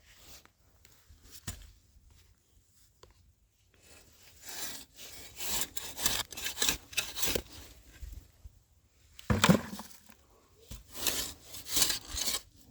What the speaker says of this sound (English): So we're just going to kind of scrape the top here.